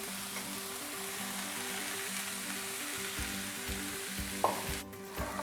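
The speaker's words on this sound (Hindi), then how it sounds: "अब ये स्पैगेटीज सारी शामिल कर देते हैं।" Spaghetti being mixed into Singaporean rice in a hot pan, a faint steady frying sizzle with soft clinks and scrapes of spoons stirring, growing busier near the end, no voices.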